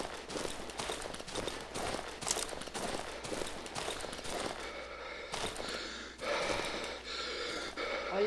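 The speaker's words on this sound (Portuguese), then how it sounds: "Olha aí o sistema de respiração do bicho" A creature breathes in the survival horror game Darkwood, heavy rasping gasps and snorts repeating in uneven bursts, close and loud over rustling movement, with no talking.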